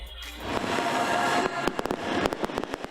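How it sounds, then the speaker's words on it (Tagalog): Bubble-releasing firework that sounds like a firecracker, going off outdoors at New Year: a dense crackling burst swells, then gives way to a quick run of sharp, loud pops. "Bukod sa katunog ng paputok, may lumalabas pang bubbles sa halip na usok."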